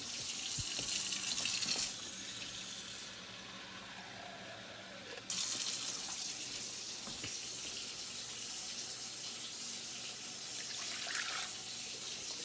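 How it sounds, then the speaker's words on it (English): Tap water gushes in a quiet, steady hiss while about a cup is run into a pan in a home kitchen, briefly changing tone midway with a soft clunk, no voices present. "I'm going to put about a cup worth of water in"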